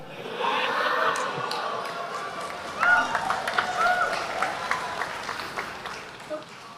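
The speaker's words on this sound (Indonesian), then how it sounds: "saya 1-0 dapat tepuk tangan Pak barusan" Audience applause in a meeting hall, a sustained patter of clapping with scattered cheers and murmuring voices mixed in, building and fading over several seconds.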